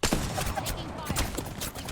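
Apex Legends gunfire crackles in dense, rapid bursts across a short stretch, with a voice talking over it.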